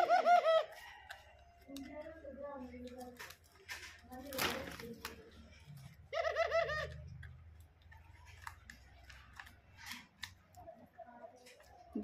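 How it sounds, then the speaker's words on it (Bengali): Pet doves coo in short soft bursts on a winter morning, mixed with faint chirps and light rustling. A person talks quietly nearby. "আমি খুব শখ করে ঘুঘু পাখিগুলো কিনেছি।"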